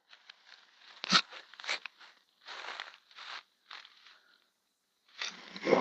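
Dead branches snap in a dense thicket of tall cogon grass. Close, dry crunching and crackling bursts come in irregular clusters separated by short silences.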